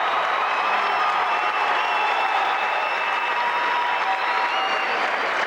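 A basketball crowd applauds steadily and loudly throughout, a dense, continuous wash of clapping at a district semifinal college game, with no pause or break in the ovation.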